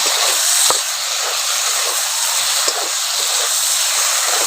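Cumin paste with green chillies frying hard in a pan, a loud continuous close-up sizzle and hiss with a couple of faint pops.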